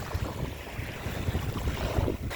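Low, steady wash of sea waves with wind rumble at a sunny seaside, soft surging noise continuing throughout without speech.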